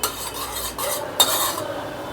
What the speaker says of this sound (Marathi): ढवळत राहायचं म्हणजे खाली ते चिटकत नाही